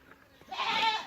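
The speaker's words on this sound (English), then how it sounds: "Welcome to our beautiful goats of Karnataka. This is our desi local breeds." A desi local Karnataka goat on a farm gives a single short, loud bleat close by, preceded by a brief quiet stretch.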